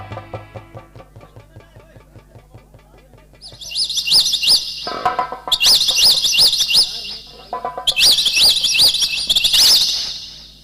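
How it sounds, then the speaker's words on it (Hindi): Birds chirping at a hilltop fort: a rapid, steady tick-like pulse of calls, then loud, high, warbling tweets in three bursts, close and clear, with a background hum and faint talk. "चिड़िया बोल रही है"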